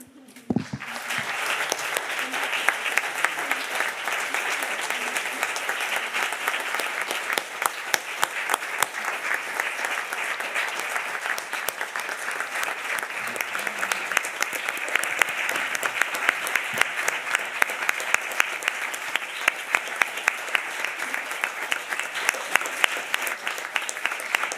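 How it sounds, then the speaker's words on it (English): Sustained, dense audience applause fills a hall after a PhD defence at Maastricht University, rising quickly and holding steady for the whole stretch with no talk over it. "What an applause, dear Dr. Schenetti."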